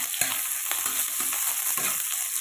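Sliced onion frying and being stirred in hot mustard oil with green chilies, a close crackling sizzle broken by irregular scraping stirs, with no voices.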